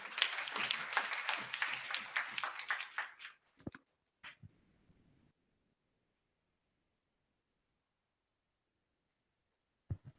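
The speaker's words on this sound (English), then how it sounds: "Let's give them a big round of applause." A workshop audience claps in a short burst of dense applause that fades out after about three seconds, followed by a couple of stray claps and long silence.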